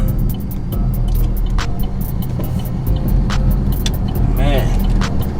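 A 2015 Chevrolet Camaro 2SS with a few mods roars loudly and continuously as it accelerates, its engine close and dominant, while people talk over it inside the car.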